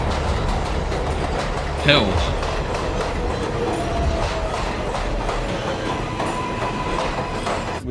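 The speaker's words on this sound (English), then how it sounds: "We hop on the 7 train." A New York City subway 7 train rolls along with a loud, steady rumble and rattling car noise, a brief metallic squeal rising early on, while a voice briefly exclaims over the din.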